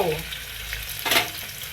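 Chopped garlic, coriander and tomato hit a hot pan, giving a brief burst of sizzling frying with a louder hiss near the end, close and fairly faint, with no talk.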